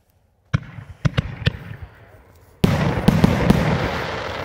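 An 11-shot, 200-gram fireworks cake repeater goes off outdoors: after silence, four sharp reports spaced apart, then a louder sustained burst of crackling with further pops continuing to the end.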